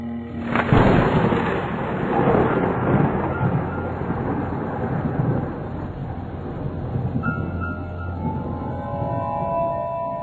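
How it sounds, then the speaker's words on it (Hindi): A sharp thunderclap cracks out early in a night storm, then rolls into long, loud rumbling that slowly fades over the following seconds, with a faint tonal sound entering near the end. "रात का समय था। बिजलियां जोर जोर से कड़क रही थी"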